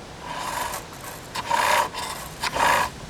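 A skew chisel scores a marking groove into a spinning wooden spinning-top blank on a lathe, a hissing rasp that swells in two louder bursts over a steady whirring hum.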